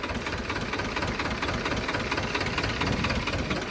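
An Escort tractor engine idles up close with a steady, dense rumble and faint rhythmic knocking, unbroken throughout.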